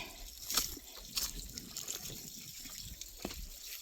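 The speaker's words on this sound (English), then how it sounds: "Okay, another waterfall. That's a little one." A small waterfall on a trail gives a soft, continuous trickle and splash of falling water, with a few brief louder spatters over a steady low wash. No one speaks.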